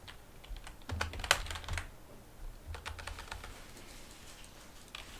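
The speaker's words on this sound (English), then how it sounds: "I can read what you're typing" Quick clicks of typing on a computer keyboard come in uneven bursts, fairly soft and close, with short pauses between runs of keystrokes.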